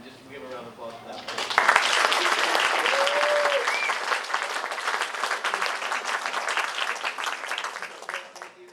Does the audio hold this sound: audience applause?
yes